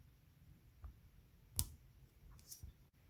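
Two small electrical connectors on a spin bike snap together with a sharp click, with a few fainter ticks before and after in a quiet room.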